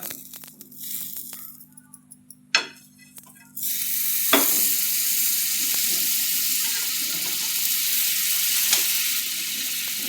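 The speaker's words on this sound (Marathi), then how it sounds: "बटर छान गरम झालं आहे म्हणजे असा पाव गरम करून घेऊया" Pav bread toasting in hot butter in a pan for pav bhaji: after a few quiet clinks, a steady, close sizzle starts partway through and keeps going to the end.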